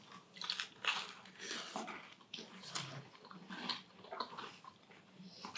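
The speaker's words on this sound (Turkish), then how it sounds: "Şimdi buzlu süte bunu bandırıp yeme vakti." Soft, close biting and chewing of a large cookie dipped in iced milk, with irregular moist crunches and munching sounds over a faint background hiss.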